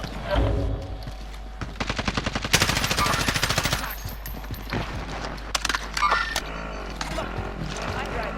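Automatic rifle fire in the shooter Warzone, an M4A1 among the weapons: several rapid bursts of close gunshots with short pauses, over ambient game noise, with someone talking at the start and sporadic shots afterward.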